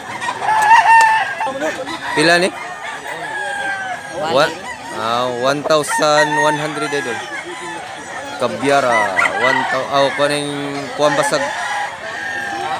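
Roosters crow repeatedly and hens cluck at a live chicken sale in Mantalungon, Cebu. The calls are loud, overlapping and close, with people talking and bargaining throughout.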